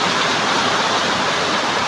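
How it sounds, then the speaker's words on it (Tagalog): Very heavy afternoon rain pours down in a loud, dense, unbroken roar close by, a constant hiss with no voices or gaps. "alas 4:33 ng hapon bumira na ang napakalakas na ulan mga idol."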